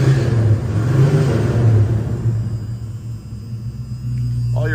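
A Mercury Cougar's engine runs with a loud, low rumble and hum close by, easing slightly before a faint rising tone at the end.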